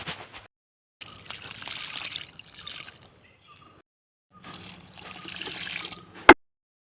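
Cow-dung water is poured onto newly planted flower plants, splashing in two separate bursts with a short quiet gap between them, followed by a single sharp click.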